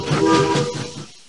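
A brief electronic train sound from a 1999 PC game, a rumbling hum with a sustained whistle-like tone that fades out after about a second.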